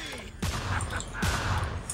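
Two heavy shotgun blasts about a second apart boom out in the PS2 game Manhunt 2, each a sharp, loud burst over a continuous rumble of game background noise.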